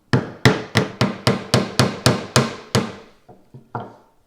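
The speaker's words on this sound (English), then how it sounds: "allows me to chop these little mortises for the blade and the wedge before shaping the beam" A chisel chops small mortises in a wooden marking gauge beam using hand tools. About ten loud, evenly spaced strikes ring out, followed by a few quieter taps.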